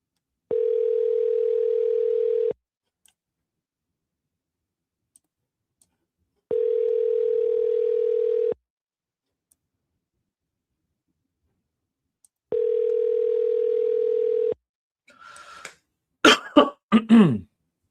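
Outgoing phone call ringback tone, three long steady pulses about two seconds each separated by roughly four seconds of silence, then a short burst of clicks and noise at the end.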